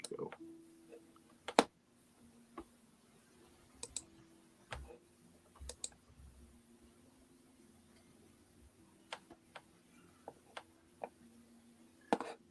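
Sparse, soft clicks of a computer keyboard being typed on in a quiet room, with scattered irregular keystrokes over a faint steady hum.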